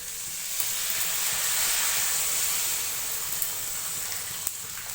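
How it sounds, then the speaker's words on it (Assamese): Water hits a hot cooking pan on a home stove and sizzles, a close, steady hiss of steam and frying that carries on for a few seconds without voices. "এতিয়া এইখিনি মই পানী দিম।"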